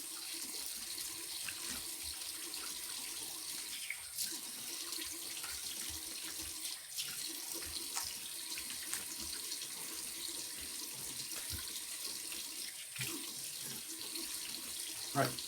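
Tap water running into a sink while rinsing after a safety razor shave, a continuous quiet gushing hiss that lasts throughout, with occasional faint splashes and no speech.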